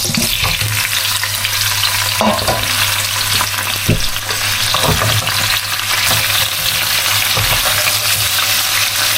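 Chicken feet tossed in a pot with biryani flowers and cinnamon, stirred with steady loud frying and sizzling, and spoon scrapes knocking through it.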